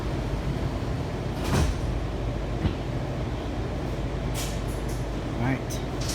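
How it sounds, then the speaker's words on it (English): The doors of a Washington Metro Red Line train, Kawasaki 7148, open at a station: a couple of brief mechanical clunks and thumps over the car's steady loud rumble and hum. "Step back. Doors open."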